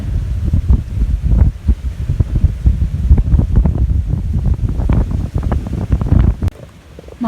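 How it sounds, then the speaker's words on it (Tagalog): Strong gusty wind buffets the microphone in heavy, rumbling bursts, loud and continuous, with no voices. "Ganda ng hangin, oy."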